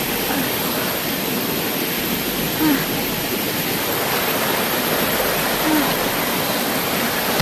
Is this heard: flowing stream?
yes